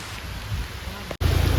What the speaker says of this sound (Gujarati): કેટલો બધો વરસાદ આવી ગયો